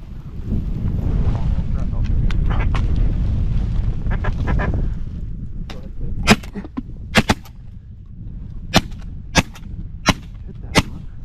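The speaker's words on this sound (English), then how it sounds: "Oh, you got more ducks coming." Ducks, including drake wigeon, flying over a soybean field during a dry-land hunt, with quacking and calls early on, followed by a series of sharp, loud shotgun blasts spaced a second or two apart, with voices talking.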